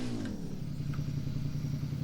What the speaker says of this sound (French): On va débarquer de la moto, là, attendez que cette moto... lag.